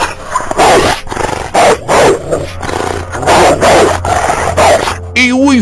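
A huge black dog barks loudly and deeply in a rapid, irregular series, close by and forceful, with a brief higher whine at the very end.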